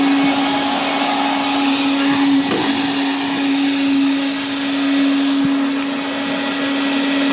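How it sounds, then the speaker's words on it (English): Vacuum cleaner running outdoors beside a waste oil stove heater, used to clear smoke, a loud, steady motor drone with a strong constant hum and airy hiss that barely changes throughout. "Vacuum cleaner, very noisy, so I'm going to put it outside just to quieten things down a bit."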